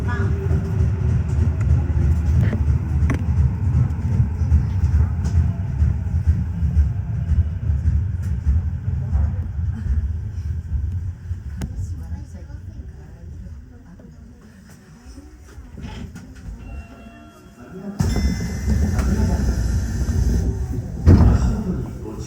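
A Tokyo Metro Tozai Line rapid train running from Nishi-Funabashi toward Nakano, with a steady low rumble and rail noise throughout, dipping mid-way before a brighter, louder stretch near the end.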